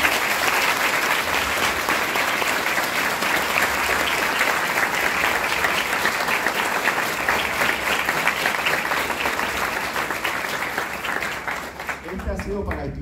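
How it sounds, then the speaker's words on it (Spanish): A crowd at a university graduation ceremony claps for the graduates in a sustained ovation. The applause stays dense and loud for many seconds, then thins toward the end. "quiero un fuerte aplauso para ustedes"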